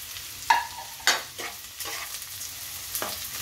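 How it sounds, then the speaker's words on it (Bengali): Vegetables including capsicum stir-frying in a hot pan for fried rice, a steady sizzle broken by a few sharp scraping stirs of a spatula. "এবারে সবগুলোকে একটু ভাজা করে নিচ্ছি।"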